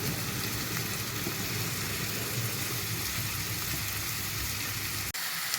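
Food frying in a pan with coriander, stirred as stuffing for tuna-filled bread, giving a dense, steady sizzle that holds loud and unbroken before cutting off abruptly near the end.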